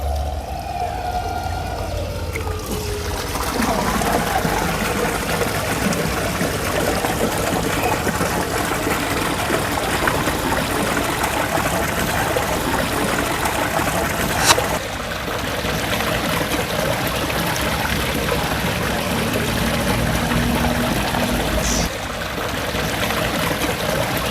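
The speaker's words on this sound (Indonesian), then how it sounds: "Tinggal dibuka penutupnya supaya air mengalir ke kolam berikutnya." Water flows steadily from one chamber of a two-tier koi pond filter into the next once the cover is opened, a continuous broadband rush that stays close and loud throughout, with no talk over it.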